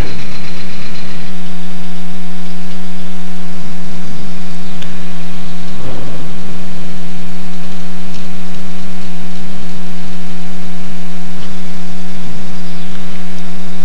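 An RV-7 light aircraft engine idles steadily on the ground with a constant droning hum and faint ticking, loud and unbroken, with no talking.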